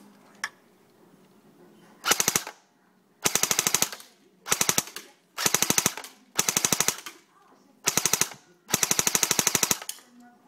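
A Heckler & Koch G36 rifle fires seven rapid full-auto bursts in close succession. Each burst is a loud, sharp rattle of shots with brief quiet gaps between them.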